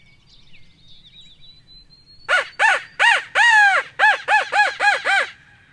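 A crow caws about nine times in a quick harsh series, loud and close, following quiet outdoor background in rural Kentucky woods.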